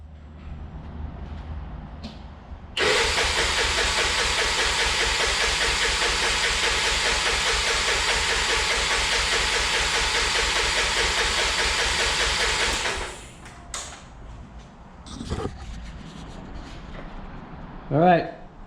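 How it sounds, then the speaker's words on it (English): Honda 300EX ATV engine cranked with the throttle held wide open during a compression check, a loud rapid rhythmic chugging that lasts about ten seconds, then stops, followed by handling clatter. "I figured we'll do a compression check real quick before we fire this thing up."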